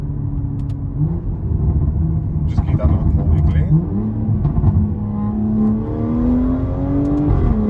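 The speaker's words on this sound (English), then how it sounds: "The upshift, so the sound here, I'm going to show you guys now. That burble sound." Inside a BMW 340i, a steady engine drone rises in pitch as an artificial upshift burble plays through the cabin speakers, heard beneath close, continuous talking.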